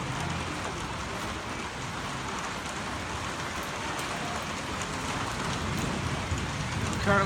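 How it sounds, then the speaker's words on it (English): Heavy rain pours steadily during a big storm in Newcastle, a dense continuous wash of drops hitting surfaces nearby with no break, growing slightly louder toward the end. "currently out here in the storm."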